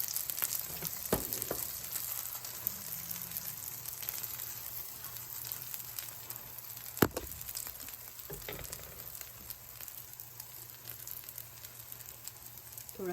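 Palak paratha frying in a little oil on a hot pan, giving a steady close sizzle and crackle throughout, with a few sharper pops and scrapes standing out.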